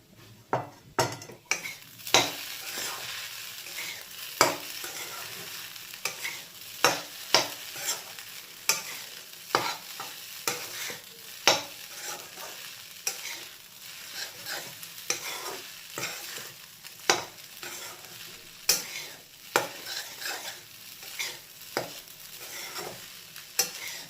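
Sabudana being stir-fried in a pan, a soft sizzle under frequent sharp scrapes and clinks of a spatula against metal, steady and close with no speech.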